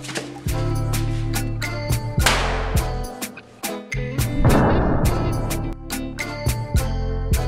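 Firecrackers explode between small toy building plates. There are several sharp, close bangs with crackling bursts, and a run of clicks and small impacts sits between the louder blasts.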